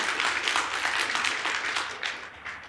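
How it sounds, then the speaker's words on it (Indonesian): A church congregation claps together in a steady, soft wash of applause that sounds somewhat distant and holds evenly throughout. "Berikan tepuk tangan yang paling meriah buat Tuhan kita"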